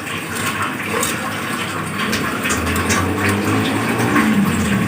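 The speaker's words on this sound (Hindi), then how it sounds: "अच्छी तरीके से फिर चावलों को धोया" Soaked rice being washed for a restaurant-style biryani, with water sloshing and pouring continuously in a loud, close, steady wash.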